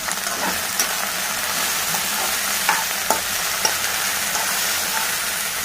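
Sliced okra cooks with turmeric and salt in a hot pan, a continuous loud sizzle broken by a few sharp scrapes and clicks as a spatula stirs it, with no talking.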